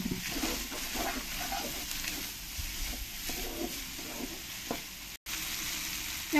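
Spices with a spoon of salt and turmeric sizzling in oil while being stirred in a pan, a continuous close frying crackle with scraping strokes, briefly cutting out near the end.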